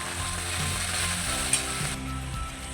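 Boiled sesame-flour paste hits hot tempering in a pan while cooking chikkudukaya telagapindi, giving a continuous bright sizzle with soft stirring scrapes and clinks, close and fairly quiet.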